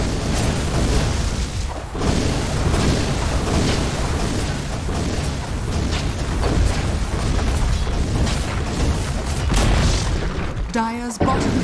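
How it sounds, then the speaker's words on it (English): Booming crashes and bursts of battle noise from a Dota 2 match as a tower is destroyed, dense and continuous for the whole stretch, with a short whooshing effect near the end. "Dire's bottom tower has fallen."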